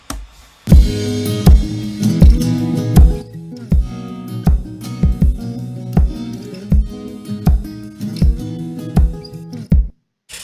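Strummed guitars pump in a steady rhythm alongside punchy drums, a loud full band groove with regular accented hits running for about ten seconds before stopping abruptly.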